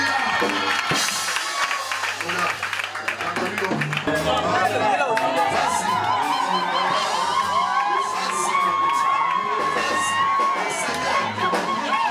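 Church congregation cheering and acclaiming the Lord, a dense crowd roar of shouts and ululating voices, loud and sustained throughout.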